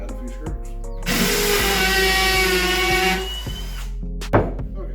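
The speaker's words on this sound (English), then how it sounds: "So all I'm going to do now is I'm just going to go through and add a few screws." Up close, a power drill drives screws into a wooden garden trellis in a loud continuous whir of about two seconds, with short tool clicks and handling knocks before and after.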